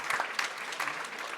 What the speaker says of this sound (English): let's give a round of applause to our fund managers